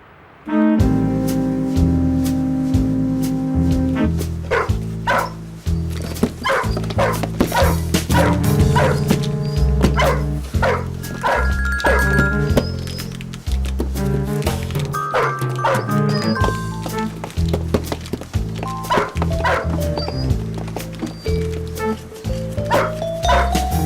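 Cartoon dog barks in an animated series, a string of yapping calls mixed into a busy, loud music track that runs throughout.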